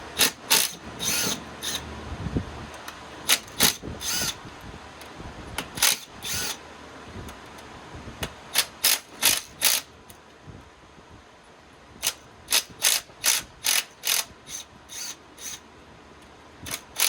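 A ratchet works a bolt out of a Land Cruiser engine in quiet clusters of sharp, rapid clicks, separated by pauses and faint rubbing.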